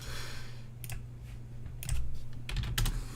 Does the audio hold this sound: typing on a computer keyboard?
yes